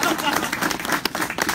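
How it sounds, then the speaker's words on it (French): A crowd applauds at an official launch event in Alfortville, a dense, steady patter of many hands clapping at moderate loudness, with some voices mixed in. "Là, vous pouvez applaudir."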